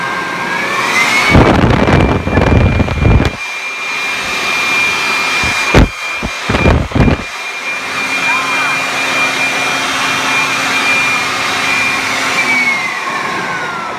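A Toro leaf blower runs at half speed, giving a steady whining roar with a high tone that holds for most of the clip and then winds down near the end. Loud handling bursts come early and midway.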